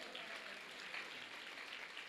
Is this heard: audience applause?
yes